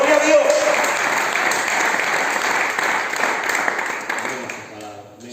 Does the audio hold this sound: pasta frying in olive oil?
no